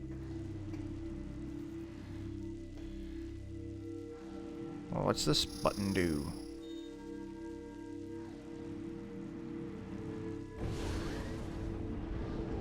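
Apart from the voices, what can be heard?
acid rain from the video game Metroid Prime 3: Corruption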